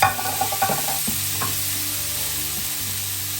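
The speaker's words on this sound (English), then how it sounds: "Put the asparagus in and let that cook up." Asparagus sizzles and fries steadily in a hot pan, a continuous crackling hiss with a few soft stirring knocks near the start, close and fairly loud with no talking.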